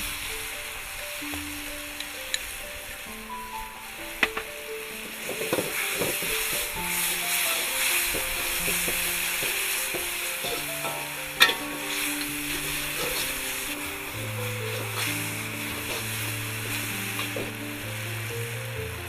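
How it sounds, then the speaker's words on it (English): Steady sizzling and hissing from pad see ew stir-frying in a hot wok, with occasional scrapes and clanks of constant stirring, while soft music plays underneath. "as soon as you put things in the wok, you'll have to constantly stir it"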